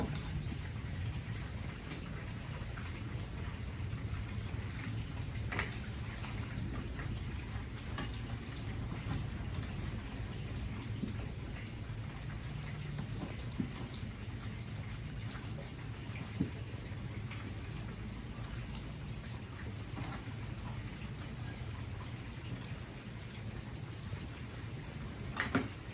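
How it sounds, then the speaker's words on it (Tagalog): Steady, heavy rain with wind hisses and patters continuously at low volume, a constant wash of noise with scattered louder drops. "Grabe yung ulan mga idol, oh. Pati hangin. Lakas."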